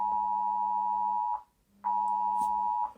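Loud emergency Amber Alert tone blares from a phone: two long steady electronic beeps separated by a short gap, close and alone with no talking.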